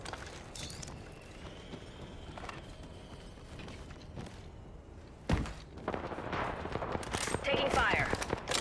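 Gunfire in the battle royale shooter Apex Legends, with bursts of shots and impacts over steady in-game ambience; a louder burst of firing arrives midway and continues to the end.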